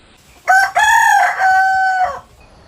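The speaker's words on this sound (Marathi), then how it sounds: "पहाटे कोंबड्याच्या आरवण्याचा आलाम," A rooster crows loudly and close at dawn in rural Konkan, one long clear cock-a-doodle-doo lasting under two seconds, with quiet around it and no talking.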